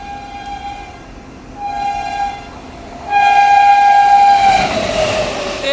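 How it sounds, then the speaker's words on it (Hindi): The Lucknow IRCTC Tejas Express passes at full speed, its horn blaring in repeated long blasts that grow louder and nearer before giving way to a rushing rumble of wheels. "और अपनी स्पेशल ट्रेन को ओवरटेक करने आ गई है लखनऊ IRCTC तेजस एक्सप्रेस, पहली प्राइवेट ट्रेन"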